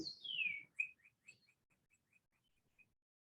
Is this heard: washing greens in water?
no